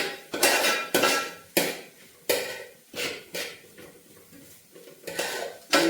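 Crushed ginger and garlic being stirred in a pan, a series of sharp metallic spoon scrapes and knocks against the pan at irregular intervals, close and fairly loud with quiet gaps between.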